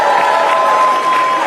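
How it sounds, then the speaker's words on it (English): A very loud crowd cheers and applauds in a replayed recording, a dense sustained roar of many voices filling the whole moment without a break. "A very loud cheer."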